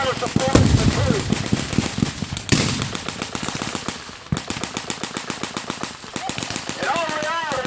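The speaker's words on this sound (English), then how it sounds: "There's a lot of firepower going." Rapid machine-gun bursts and rifle shots at a WWII battle re-enactment, with a 37mm anti-tank gun in the field, firing in steady rattling volleys, loud and nearby, while someone narrates over the shooting.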